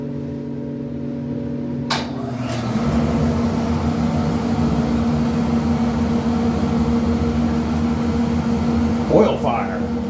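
A Van Wert VA-600 dual fuel oil heater lighting up, with a steady motor hum that shifts as the burner catches into a loud, constant roaring rumble that continues alone with a brief click near the end.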